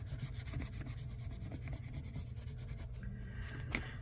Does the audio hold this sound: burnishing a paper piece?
yes